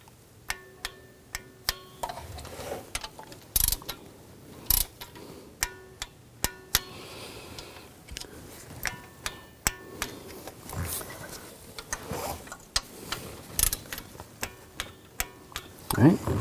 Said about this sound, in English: Now we're going to torque these bolts to 79 inch-pounds.